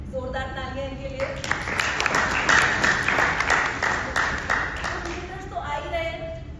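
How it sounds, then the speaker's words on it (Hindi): An audience breaks into loud, sustained applause for visitors at a business event, a dense burst of clapping lasting several seconds with talking before and after it. "जोरदार तालियां इनके लिए"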